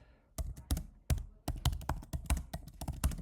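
Quick, close typing on a computer keyboard, irregular bursts of crisp key clicks and thumps at a moderate pace, alone without talk.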